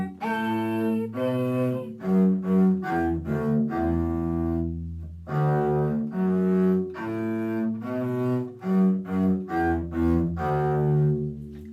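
Electric bass plays the second half of the song Rocky Mountain, a steady line of sustained, clearly separated notes moving through a simple pattern, up close and on its own without any voices.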